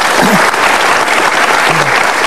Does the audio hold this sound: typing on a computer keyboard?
no